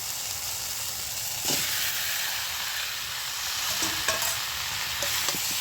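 Fried potatoes and ash gourd go into a pan of cooked-down spice paste and are stirred, giving a steady loud sizzle with scraping stirring strokes and a few clinks of the spoon.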